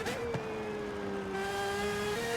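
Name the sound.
Aston Martin car engine in video game Forza Horizon 5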